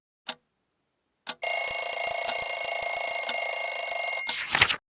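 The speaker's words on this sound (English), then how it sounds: "Alarm clock goes ding-ding." An alarm clock rings loudly and steadily for about three seconds with a bright metallic tone, preceded by two short clicks and ending with a brief clatter.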